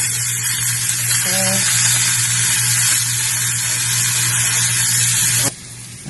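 Water hisses and sizzles steadily on a hot Cutco pan, a loud, continuous spray-like frying sound that runs for several seconds before cutting off abruptly, with no talking.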